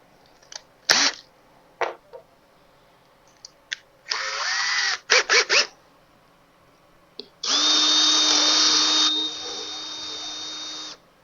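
A power drill bores a hole for a rear view mirror on a Factory Five Mk4 Shelby Cobra replica. There are a few short taps and clicks, then brief bursts of whining drilling, and finally a longer steady high-pitched run, close and loud.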